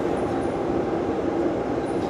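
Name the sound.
train passing under bridge over Yangtze river, Wuhan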